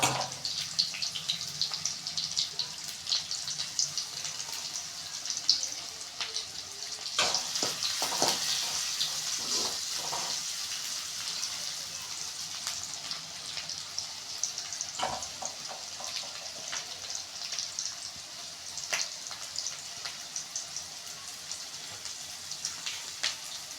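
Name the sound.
onions frying in a pan for egg fried rice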